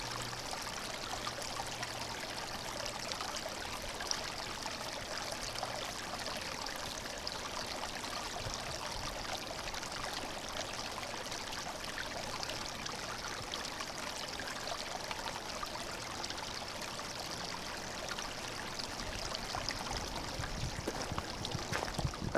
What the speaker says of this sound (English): You can see how little time it takes to filter a bottle of water